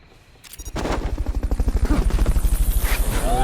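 A helicopter in the video game Metal Gear Solid Peace Walker powers up after a sharp mechanical clack, its rotor settling into a loud, fast, rhythmic chop that fills the rest of the clip.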